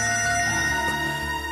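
A phone rings loudly and steadily in a Tamil TV serial scene, a continuous electronic ringtone tone filling the moment with no talk.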